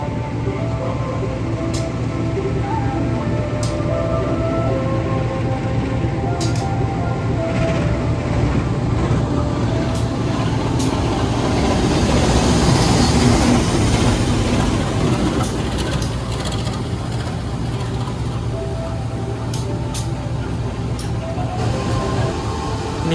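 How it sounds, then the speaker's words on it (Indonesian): The Ambarawa Express train, hauled by a vintage locomotive, rumbles heavily into a station in Java, engine droning low and steady with wheels clattering, swelling louder midway before easing, with brief sharp clicks throughout. "Jalur 2 masuk kereta api Ambarawa Express"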